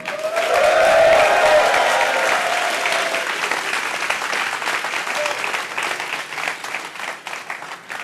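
A conference audience breaks into loud, sustained applause that peaks early and then slowly thins out, with some crowd noise and a voice briefly audible over the clapping.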